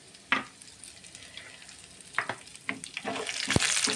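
Garlic cloves dropping into hot oil already frying chana dal and cumin, a steady close sizzle broken by a few sharper crackles and stirring clatters, with no talking.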